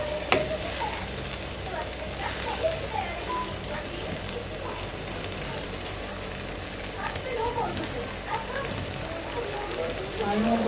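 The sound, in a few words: stirring and frying potatoes with fenugreek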